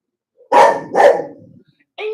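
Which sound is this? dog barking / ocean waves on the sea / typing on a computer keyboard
dog barking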